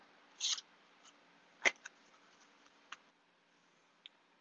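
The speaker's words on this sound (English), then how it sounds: "I'm going to pull this tail down and cut it at the same length" Scissors snipping a ribbon tail on a mesh grapevine wreath, a few quiet, sharp clicks and one crisp cut, close and isolated against near silence.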